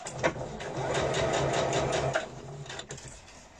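A sewing machine set to a long 4.5 stitch length runs close and fairly loud for about two seconds with a steady mechanical rhythm, then slows into a few separate clicks as it stops.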